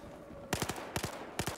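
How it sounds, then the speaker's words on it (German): Three quick bursts of gunfire from Battlefield 4 multiplayer, each a tight cluster of sharp, loud shots separated by short pauses, close and alone over a low steady background. "Der Schuss war ziemlich knapp, da hat einer auf mich geballert"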